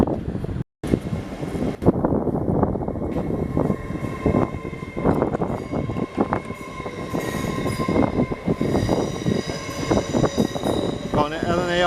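An LNER train departing Doncaster station on the East Coast Main Line for Edinburgh, loud rumbling wheels and squealing rails close by with a horn, while people talk nearby.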